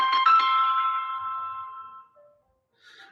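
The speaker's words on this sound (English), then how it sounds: "I will try to make my phone shut up." A mobile phone rings in a lecture hall with a bright electronic chime, a few quick pulsed tones that fade over about two seconds, then a faint short tone follows.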